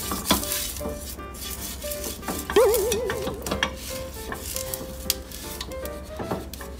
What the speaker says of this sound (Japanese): じゃあフライパンが温まったので、こちらで油引いていきますね